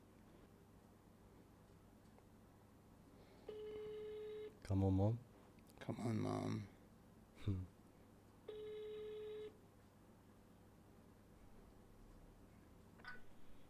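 A telephone call rings out in two long ringback tones separated by a burst of voice, while a person urges someone to pick up, the tones faint and thin against a quiet room.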